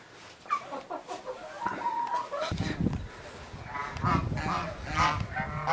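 Aseel roosters and hens cluck and crow close by in a village, several birds calling over one another, with someone talking quietly beneath.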